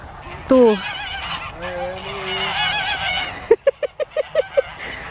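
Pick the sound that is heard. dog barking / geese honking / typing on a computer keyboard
geese honking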